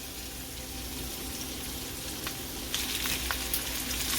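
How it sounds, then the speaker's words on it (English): Meatballs fry in a skillet with a steady, close sizzle and a few small pops near the end, with no voices over it. "We're going to finish the cooking of the meatballs, and then we're going to make our sauce right in the same pan with the meatballs."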